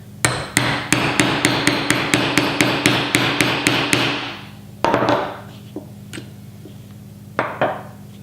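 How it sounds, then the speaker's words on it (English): A hammer taps a metal flaring tool about a dozen times in a quick, steady rhythm, followed by a few scattered, lighter taps that ring briefly. "give it a couple taps with the hammer"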